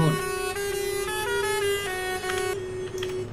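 A loud, sustained bus horn blares close by, holding one steady tone for a few seconds with traffic noise around it.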